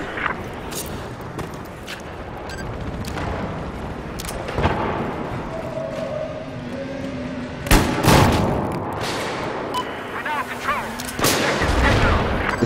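Gunfire in a first-person shooter video game: repeated sharp shots and heavier booming blasts at irregular intervals, some near and loud, mixed with game effects, while players talk over it.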